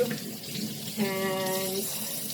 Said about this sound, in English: I just like to take them out of the container and rinse them off under some water real quick